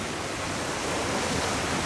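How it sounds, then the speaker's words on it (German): Warm groundwater runs down inside an old mine tunnel, a steady, enveloping rush of flowing water that fills the space evenly from start to finish. "Was ist denn das für ein Wasser, was hier runterkommt?"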